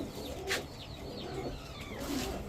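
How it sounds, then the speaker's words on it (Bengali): A pair of tiger grizzle racer pigeons cooing softly over a steady background hum, with faint bird calls and no talk. "এখন দেখাবো এক জোড়া টাইগার গ্রিজেল রেসার কবুতর।"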